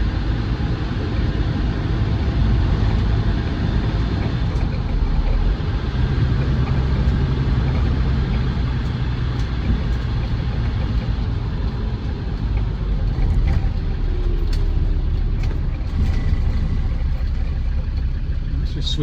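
Land Rover Defender 110 TD5 double cab diesel engine droning steadily while driving, a continuous mid-level road and engine rumble from inside the cabin with no clear breaks.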